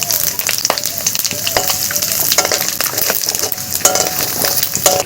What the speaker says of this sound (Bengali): সামান্য সর্ষের তেলটা দিয়ে দেবো, শুকনো লঙ্কাটা দিয়ে দিলাম, 2টো তেজপাতা দিয়ে দিলাম,